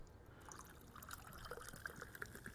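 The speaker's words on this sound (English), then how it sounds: "Let's hear this beautiful little drip." Buffalo Trace bourbon whiskey dripping in a quiet room: faint, soft liquid drips and a thin trickle, with small bright drops landing irregularly over a low hiss.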